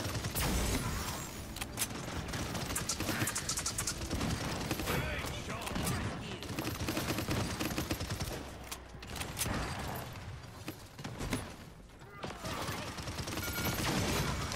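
Video game gunfire in a fast multiplayer match, with dense bursts of shots and clattering weapon mechanics running almost nonstop at a fairly low level, with players talking over it.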